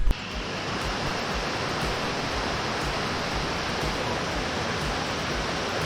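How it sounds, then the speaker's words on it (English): Water rushes continuously beside a hiking trail on the Katrivier, a steady broadband roar with no break, close and fairly loud, with no voices. "water's still running over here"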